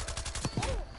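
Gunfire bursts in Call of Duty, including a sniper rifle shot, crack out in quick succession in a busy match, with faint game voices underneath.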